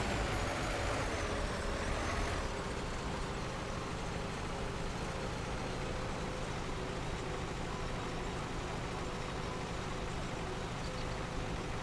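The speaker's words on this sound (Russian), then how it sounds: "вроде после ремонта быстрее, что ли, начал трактор ездить" A tractor in Farming Simulator 19 drives steadily, its engine a continuous, even drone with a broad rumble and no pauses, moderately loud throughout.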